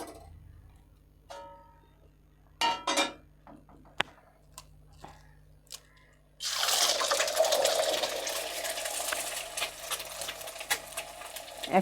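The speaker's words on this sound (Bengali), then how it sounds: "এবার ডিমগুলো ভেজে নেব" Eggs crack into hot oil in a wok for a stale-roti breakfast snack, and a loud, steady sizzle suddenly fills the sound after a few quiet clicks and taps from the cooking.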